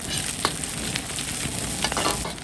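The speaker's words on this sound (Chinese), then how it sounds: "先讓它炒一塊，這不一定要炒香啊" Pork belly stir-fries in a wok with ciba chili paste, ginger and garlic, giving a dense crackling sizzle with scattered scraping stirs of the spatula throughout.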